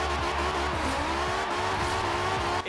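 A V10 from a BMW M5 swapped into a Toyota Supra build in Forza Horizon 4 screams at high revs, its loud steady engine note running with repeated gear-shift dips and some tire squeal.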